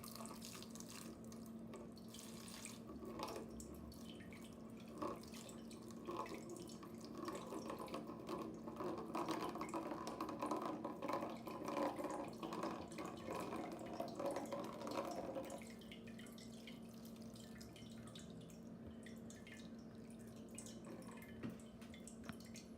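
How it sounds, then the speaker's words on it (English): A faucet runs steadily for sparging during home brewing of an American stout, a continuous hiss and splash of water into a vessel that grows louder midway, then eases to a quieter steady flow, with no speech. "We're going to turn our faucet on."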